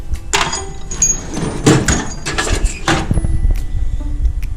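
Metal drawers of a Snap-On toolbox sliding and clattering, several loud rolling slides and knocks close by, ending in a rattle and settling, with no talking.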